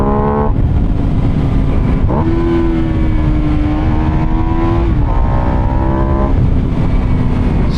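Buell Super Cruiser motorcycle ridden in first gear on a road, engine loud and close with repeated rising revs broken by brief throttle drops, plus steady wind rush and no talk.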